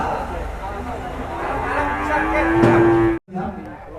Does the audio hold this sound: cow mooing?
yes